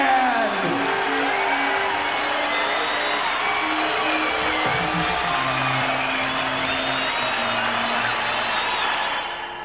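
An audience at the Jim Rose Circus Sideshow gives a big, sustained round of applause with scattered whoops, loud and continuous, fading slightly at the end; faint tonal voices sit beneath the clapping.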